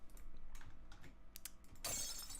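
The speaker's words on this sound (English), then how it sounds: "Glass break." A breaking-glass effect inside an electronic music track, a bright shattering crash near the end following sparse clicks and glitchy percussive ticks.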